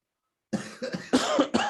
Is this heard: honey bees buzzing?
no